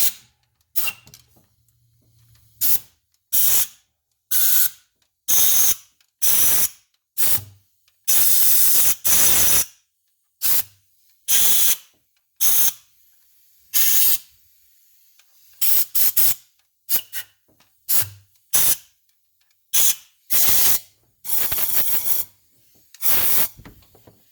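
Compressed air blowing out the cylinder head bolt holes on a Cadillac Escalade engine block: about twenty sharp loud hissing bursts, each a second or so long, separated by short silences.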